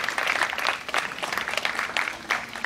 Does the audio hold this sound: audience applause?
yes